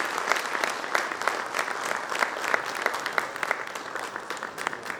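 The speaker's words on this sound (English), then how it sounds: "So once again, with everybody's round of applause" An audience at a corporate HR event breaks into steady applause, a dense continuous patter of many hands clapping at moderate distance, with no talk over it.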